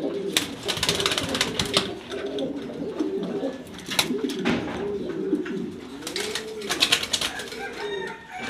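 Domestic pigeons coo in a loft in Mirpur, Dhaka, with a male worked up over a female. Layered low cooing rolls on steadily and close, with wing flaps and sharp clatters breaking through, and a faint crow further off.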